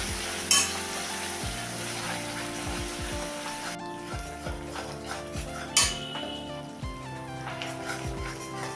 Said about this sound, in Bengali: আমার এই পেঁয়াজটা ভাজা ভাজা হয়ে গেছে